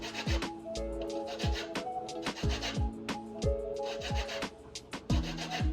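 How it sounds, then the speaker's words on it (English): A lime is rubbed against a grater to zest it, a close series of rasping scrapes in an irregular rhythm with small knocks between the strokes. "I always add just little zest lime, just for the flavor"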